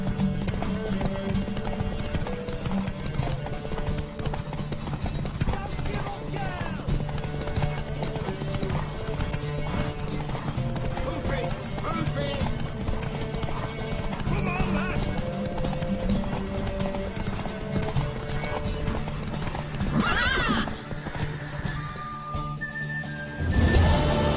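Rapid hoofbeats of a galloping horse in The Witcher 3: Wild Hunt pound on over music and voices, with a whinny rising near the end.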